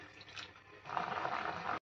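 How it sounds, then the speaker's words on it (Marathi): Water collected on the lid is poured into a pot of half-cooked chicken curry, a soft splash that turns into a fuller, steady stream before stopping abruptly. "झाकणावरचं पाणी ह्याच्यामध्ये ओतायचं असं।"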